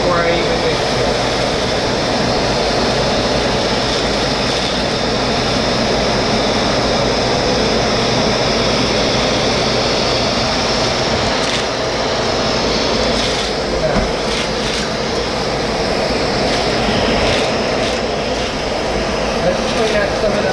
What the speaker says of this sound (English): You can see it sucking up all of the dirt and stuff before I even mix it.